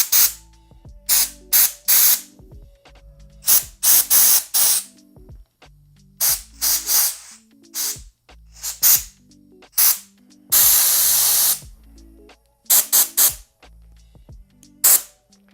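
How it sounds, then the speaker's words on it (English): A Merlin air blow gun from Harbor Freight blasts compressed air in repeated short hissing bursts with one longer sustained blast, loud and close, with clicks between bursts and no voices. "the air is more spread out. It's coming out much larger from the tip."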